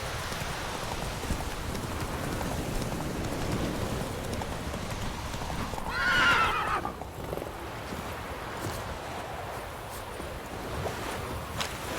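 A horse in The Witcher 3 gallops with steady hoofbeats over a rainy backdrop, and a short, loud neigh breaks through midway before the running resumes.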